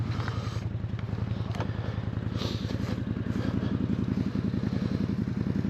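A 2025 CF Moto Uforce 800 XL four-seat UTV high-centered and stuck, its engine running with a throbbing, clattery pulse that grows louder and more rapid toward the end, close up and without speech.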